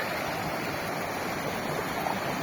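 A small stream flows beside an asphalt road on the way to Lake Synevyr, giving a steady, even rush of water that holds at the same level throughout with no voices.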